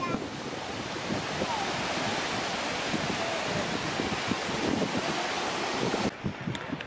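Ocean surf rolls onto a beach while wind buffets the microphone, a loud, continuous wash of waves and gusts that drops off sharply near the end.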